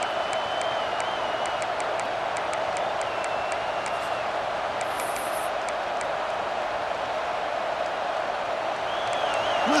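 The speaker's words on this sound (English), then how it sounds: "Listen to the crowd energy here in the early going." A large stadium crowd in the EA Sports College Football 26 video game keeps up a steady, distant roar of cheering throughout.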